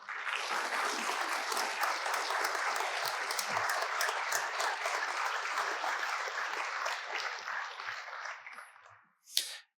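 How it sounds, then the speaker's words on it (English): Applause from the audience for honored guests at a police academy graduation ceremony, a dense, steady clatter of many hands that holds for about eight seconds before fading away, with one brief sharp sound at the end. "Let's have a round of applause for all of our honored guests."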